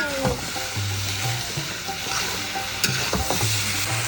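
Boiled jackfruit pieces sizzle steadily in hot oil as they are stir-fried, with a spatula scraping the pan now and then and a low hum running underneath.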